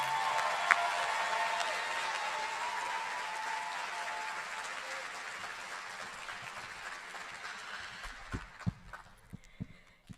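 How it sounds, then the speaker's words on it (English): Audience at a University High School commencement applauding the inaugural valedictorian, a broad, even wash of clapping that slowly fades over about ten seconds, ending in a few scattered final claps. "Everyone, please give a round of applause for your inaugural valedictorian, Kylie McCormick."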